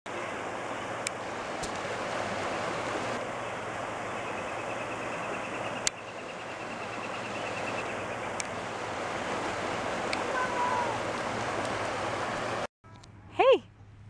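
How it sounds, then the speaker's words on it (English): Waves wash steadily on open water beside a playground, a continuous broad rushing hiss mixed with wind buffeting the microphone, and a short burst of voice at the very end. "There's water behind us."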